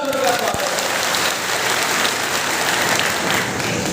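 Loud, dense applause from a crowd at a political rally in the Silwani assembly constituency, welcoming a speaker. It fills the whole stretch in a steady, unbroken roar of clapping.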